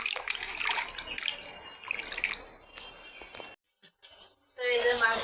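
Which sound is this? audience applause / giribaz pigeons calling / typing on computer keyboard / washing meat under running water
washing meat under running water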